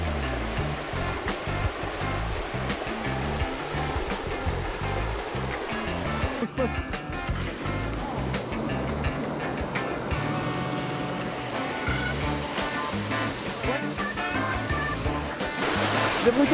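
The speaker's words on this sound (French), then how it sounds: "vraiment top ce petit ruisseau" A small trout stream rushes and gurgles steadily, loud and close, forming a constant broadband wash of flowing water with no pauses.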